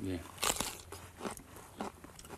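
Crisp bites into a fresh, firm, juicy cucumber from a farm harvest, giving a few loud crunches followed by chewing, with voices talking over it.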